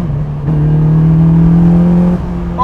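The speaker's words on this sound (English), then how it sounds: "this car has more power and it makes more of a racket as well" A Caterham Super Seven 2000 engine revs up loudly and close, holding a buzzy, raspy drone for about two seconds before easing off.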